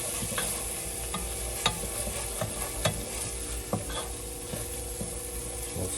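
Chorizo sizzles steadily in a frying pan for Portuguese chorizo with green peas, with a constant crackling hiss and a few scrapes and taps as it is spread around the pan.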